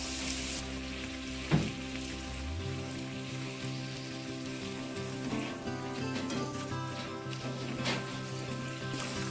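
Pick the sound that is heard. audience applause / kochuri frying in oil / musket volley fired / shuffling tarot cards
kochuri frying in oil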